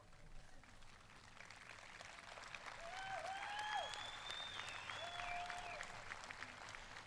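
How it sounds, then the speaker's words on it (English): A crowd at a high school commencement applauds the graduating class of 2022, clapping distant and steady, swelling in the middle, with a few whistles rising above it. "We could clap for them a little bit."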